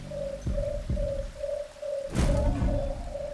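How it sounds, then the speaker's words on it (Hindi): A bird in a forest repeats a steady series of hollow cooing calls at an even rhythm against a low background rumble, with a brief burst of noise partway through. "ये पक्षी तो निशाचर पक्षी नहीं?"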